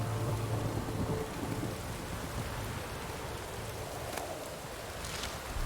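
A thunderstorm in the video game The Witcher 3: Wild Hunt, with steady rain hissing on surfaces and a low rumble of thunder at the start, continuous and fairly faint, with no talking.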